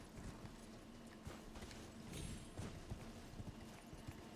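Horse hooves clip-clopping in Elden Ring, a steady run of quick, soft footfalls over a continuous game background, with no speech over them.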